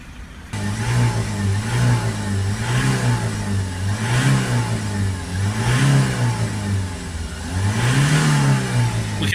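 A Citroen Relay 2.2 diesel van engine revs steadily to build boost and clear its particulate filter, its drone rising and falling in slow waves after a quiet start, loud and close throughout.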